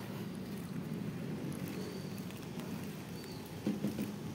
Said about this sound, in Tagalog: Umuulan siya ngayon. Pero okay lang, hindi naman malakas.